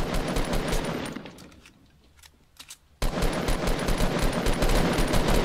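Rapid automatic gunfire from shooting in the video game Fortnite, loud and dense, breaking off into a near-silent gap with a few faint shots before a sudden burst of heavy, continuous firing resumes.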